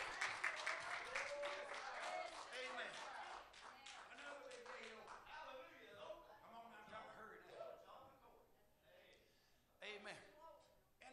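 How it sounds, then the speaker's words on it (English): A church congregation claps hands in praise during a sermon, a dense burst of clapping that starts loud and then thins into scattered claps over about eleven seconds, with voices mixed in. "Give him a hand clap of praise."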